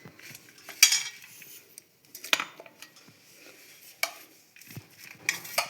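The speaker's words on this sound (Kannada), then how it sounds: "ಇದು ಒಂದು ಮಿಕ್ಸರ್ ಜಾರಿಗೆ ನಾನು ಕೊಬ್ಬರಿಯನ್ನು ಹಾಕ್ತಾಯಿದ್ದೀನಿ." Coconut is dropped into a mixer jar in a home kitchen in a few separate bursts of clinking and rattling, close and sharp, with quiet pauses between and no talking.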